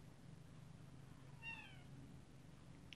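A house cat gives a single short meow, moderately close and clear over a low steady room hum, with no one speaking.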